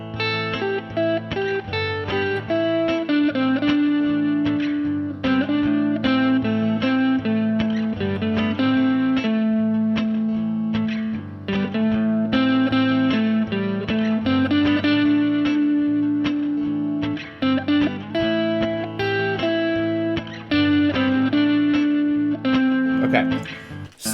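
Electric guitar playing a pentatonic solo stuck in box patterns, a continuous run of distorted, effects-laden lead notes with chorus and reverb, loud and up close, with no talking.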